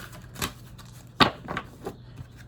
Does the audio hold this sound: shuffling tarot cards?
yes